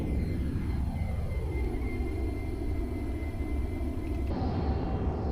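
Steady airplane engine drone from a flight simulator game during a formation flight, a loud continuous rumble with slowly shifting tones and no break throughout.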